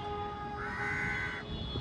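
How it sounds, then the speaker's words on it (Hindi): Crows cawing outdoors, a single drawn-out harsh caw at moderate distance over steady background noise. "ये तो कौआ आ गया भाई, ये कौए आ गए"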